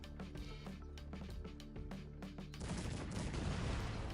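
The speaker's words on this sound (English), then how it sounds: "It is incredibly expensive with shooting with 30 cannons." Massed cannon fire in the real-time strategy game Cossacks 3, a dense rolling fusillade of overlapping booms that swells into a heavy continuous roar, with no talking.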